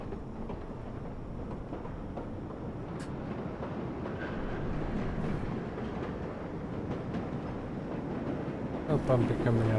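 Subway train on the number 7 local line rolling toward Main Street in the game World of Subways 4, a continuous rumble with faint rail clatter and occasional brief clicks, steady and moderately loud, with someone talking over it.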